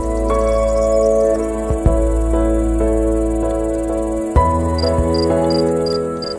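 A cricket chirps at night in steady, evenly spaced pulses over a sustained tonal drone, with a couple of soft knocks.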